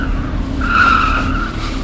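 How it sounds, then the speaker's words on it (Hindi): A car pulls up in front of a house and skids to a halt, its tires giving one sustained squeal over a loud, rumbling engine. "हमारे घर के सामने एक गाड़ी आकर रुकती है"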